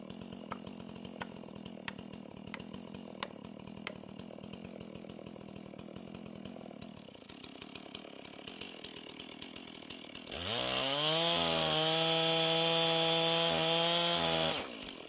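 A chainsaw cuts through a log in a woodcutting class setting, a steady loud rasping drone that rises sharply in pitch and intensity partway through as the chain bites deep into the wood, running close and alone.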